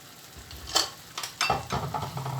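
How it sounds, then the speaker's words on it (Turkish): Beaten eggs poured onto melted butter in a pan for a breakfast dish, giving a soft sizzle with a few stirring and pan clinks, close and fairly quiet, with no talking. "Yağımız eridikten sonra da yumurtamızı üzerine dökelim."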